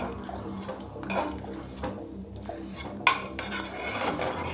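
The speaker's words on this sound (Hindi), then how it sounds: "दाल को हम कलछुल की मदद से थोड़ा सा मैश कर लेंगे।" Cooked bathua lentil dal being mashed with a metal ladle in a pot, giving soft scraping and clinking strokes with one sharper knock near the middle, alone without talk.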